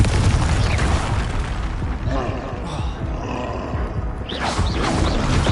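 A Confringo blasting spell explodes in Hogwarts Legacy gameplay, a loud, dense roar of booming combat noise that fills the whole stretch, with a voice calling out over it.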